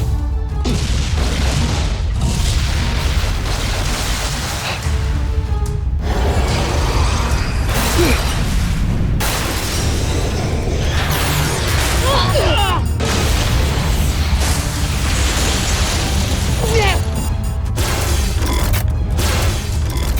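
Anime bazooka attack from the Voltes V robot, a dense run of booming explosions and clanking mechanical effects that stays loud throughout, layered with music and shouted voices.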